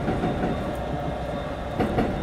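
Train running on rails in the Densha De Go! Yamanote Line game near Shibuya Station, a steady loud rumble of wheels on track with faint clacking, no voices.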